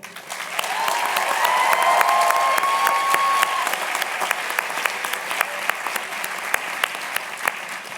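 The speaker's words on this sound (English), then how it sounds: "Please give an applause for each one." An audience at a medical and dental school class day ceremony applauds steadily, a dense wash of clapping from many hands that swells and holds throughout, with faint whoops and cheers near the start.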